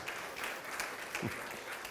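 A church congregation applauding during a Spanish-language service, a brief steady patter of many hands clapping at moderate loudness.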